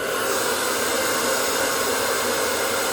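A handheld blow dryer set to medium heat drying hair runs with a steady, loud, airy whoosh and a high motor whine, constant throughout with no talking.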